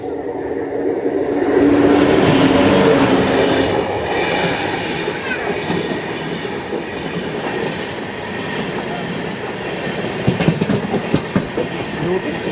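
The 17243 Guntur–Rayagada Express rolls along with a heavy rumble and rhythmic clatter of wheels on track, louder early on, then steady, with a few sharp knocks near the end.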